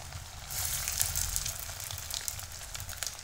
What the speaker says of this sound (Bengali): এবার আমি একটা একটা করে ডোনেট ছেড়ে দেব। সবগুলো ডোনেট দেওয়ার পরে ভালো করে এপিস ওপিস করে ভেজে নেব।